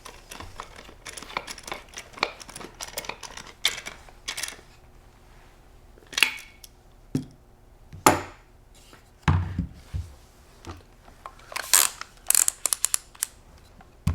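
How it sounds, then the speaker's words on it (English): A 13mm nut is tightened by hand with a T-handle wrench onto a stud with a lock washer on a Benelli Montefeltro shotgun, giving irregular close metallic clicks and ticks spaced by short quiet gaps. "Use a T-handle wrench to tighten the nut by hand."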